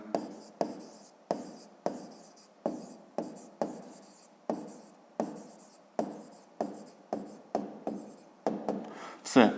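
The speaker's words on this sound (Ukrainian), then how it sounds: "Ну, а зараз записуємо відповідь" Hand writing in a fifth-grade maths lesson: short, even bursts of pen or chalk scratching with brief gaps, about a dozen strokes, close and fairly quiet, ending in a louder scrape.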